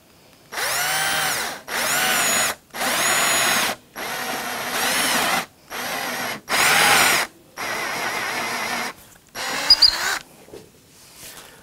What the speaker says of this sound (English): I'm not drilling all the way through.